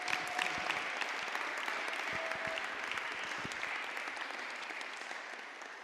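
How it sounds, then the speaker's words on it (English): A round of applause from an audience at a Saturday Free School fifth-anniversary session, a dense, sustained wash of many hands clapping at moderate distance that slowly tapers off over about six seconds. "I think he deserves a round of applause anyway"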